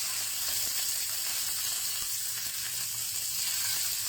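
Salmon sears in a hot pan, giving a loud, dense sizzle that holds steady throughout at close range with no voices.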